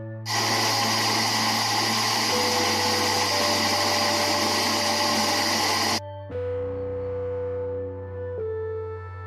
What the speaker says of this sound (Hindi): इन सबको हम मिक्स करके ब्लेंड करेंगे।